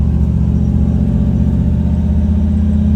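A car engine drones steadily at a medium, even pitch as the car drives in at an abandoned circle race track whose massive grandstands are being taken down. The engine sounds loud and close, with no breaks.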